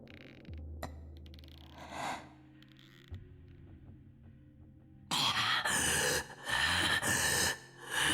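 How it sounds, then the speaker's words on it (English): Deep, heavy breathing from a character in the visual novel Chaos;Child: a few slow, strained breaths and gasps up close, then a louder, rougher run of breathy noise. "Alright, that's some deep breathing, buddy"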